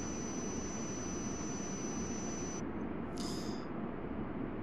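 A jet airliner in the air traffic control game Tower! 2011 roars steadily as it takes off, a loud, continuous broadband rush with a thin high whine that cuts out partway through.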